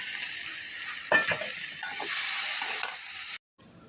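Onion, garlic and ginger sizzle in a hot pan with oil, a steady frying hiss broken by a few stirring scrapes, then a brief dropout near the end before the sizzle returns.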